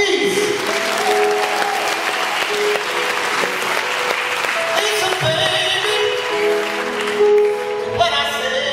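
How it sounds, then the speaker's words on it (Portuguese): Concert crowd at the Pax Julia theatre in Beja, Portugal, claps loudly and steadily for the staff after a live set, with some voices and cheers mixed in. "uma grande salva de palmas para o staff do teatro"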